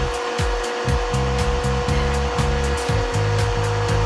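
A saw blade chisels rough material from the teeth of a handmade wooden gear, giving a loud, whining power-tool drone broken by rapid, repeated rasping bursts as the blade bites the wood.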